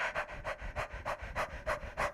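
Rapid rhythmic panting breaths imitate a dog during Kukraha pranayama breathing practice, about eight quick, even, close huffs, with no talking.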